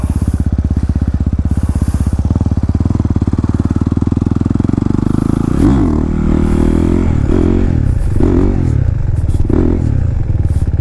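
A motorcycle engine drones loudly and steadily up close at a stunt spot during wheelie practice, then surges and revs in several bursts with some clattering.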